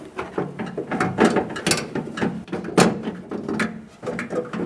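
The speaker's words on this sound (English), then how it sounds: "Take the tailgate handle and slide it in from the bottom of the tailgate" A plastic and metal tailgate handle for a 2011-2018 Ram 2500 being slid into the tailgate, heard as close clicking, scraping and rattling mechanical handling in irregular bursts.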